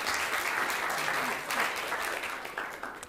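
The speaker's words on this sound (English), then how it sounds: "Give yourselves a round of applause." Children at a Mothers' Day church service applaud themselves, a dense, even patter of many small hands lasting a few seconds at moderate distance, with no talk over it.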